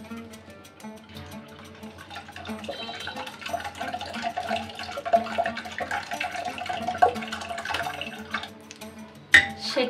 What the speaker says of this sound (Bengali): এখন একটা ছাঁকনির সাহায্যে ছেঁকে নেব, কারণ এটার ভিতরে বিচি বিচি ভাব থাকে